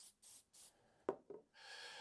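Short hissing bursts of spray paint are applied to a 3D-printed chimney part, two brief puffs then a longer spray, with a small clack of handling in between, quiet and close.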